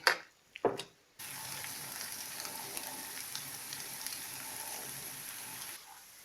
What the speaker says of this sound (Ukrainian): тепер будемо жарити деруни на сковорідці.